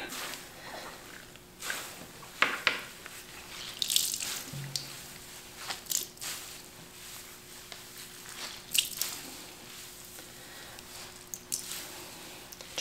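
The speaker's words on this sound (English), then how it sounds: "The goal here is to get as much water out as you can before you lay it flat so you can reduce the drying time." Wet knitted garment being squeezed and pressed by hand in a sink to push water out, giving soft intermittent squishing and dripping sounds at close range with no talk.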